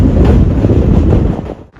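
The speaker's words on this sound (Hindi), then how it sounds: "हमारी जो ट्रेन है अराइवल कर रही है बिहार के बैरगनिया रेलवे स्टेशन।" A Garib Rath special train (05578, Anand Vihar–Saharsa) pulls into Bairgania railway station in Bihar with a loud, steady rolling rumble that drops away sharply near the end.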